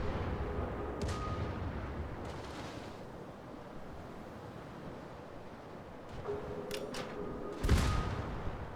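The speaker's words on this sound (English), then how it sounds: "And here comes secondaries." Secondary guns on a warship firing in the naval battle game World of Warships, a few sharp booming reports scattered over a steady ocean and engine rumble, one heavier blast near the end.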